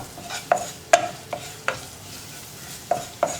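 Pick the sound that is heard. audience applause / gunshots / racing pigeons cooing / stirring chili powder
stirring chili powder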